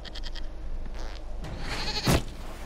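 A goat in Dragon Age: Inquisition lets out a loud, wavering bleat alone over quiet game ambience, after a few soft staccato tones.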